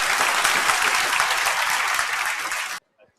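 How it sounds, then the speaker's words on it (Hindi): An audience in a coaching-academy classroom breaks into loud, dense applause for almost three seconds before it cuts off abruptly into near silence. "एक बार सभी के लिए जोरदार तालियां।"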